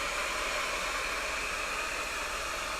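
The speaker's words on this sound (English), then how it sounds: "you can try taking out the heat gun or blow dryer again" A heat gun or blow dryer runs steadily, blowing hot air to soften the adhesive during a Galaxy S6 digitizer replacement, a constant close whooshing hiss with no talking.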